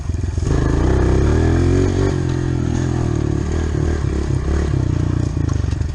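A motorcycle engine revs hard and loud up close, its pitch shifting as a gear drops, then it keeps droning at high revs with a faint rattle underneath.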